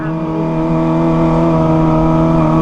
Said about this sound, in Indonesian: Jadi kita bikin berisik kota Serang pakai knalpot Toce guys.